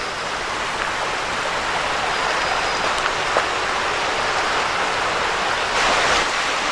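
Creek water flows steadily beside a woodland trail on Tom's Creek in the Delaware Water Gap, a continuous broad rushing wash at close range with no voices.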